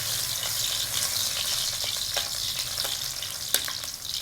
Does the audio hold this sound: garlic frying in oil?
yes